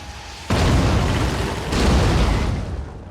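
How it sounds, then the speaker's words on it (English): A wall blown apart by an explosive in the tactical video game Phoenix Point, a loud, sudden blast that cuts in and rolls into a sustained, rumbling debris roar with a second surge partway through. "it should blow up the wall and blow up the dude behind"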